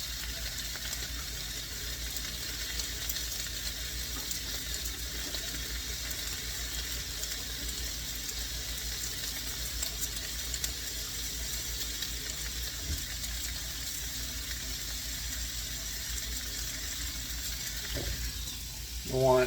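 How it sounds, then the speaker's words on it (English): Raw beef for beef stroganoff sizzles steadily in a hot pan, a constant broadband hiss that holds level throughout, with a brief clatter near the end. "instant sizzle. That's what you want."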